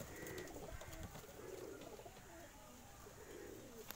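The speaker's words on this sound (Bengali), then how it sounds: "পায়রা খুব ছটপটে, পায়রাকে খাওয়া দেওয়া হয়নি এখন, বহুত ছটপটে পায়রা।" Punjabi Malwai pigeons cooing in a loft in Dankuni, West Bengal, soft repeated low coos in a faint, quiet setting.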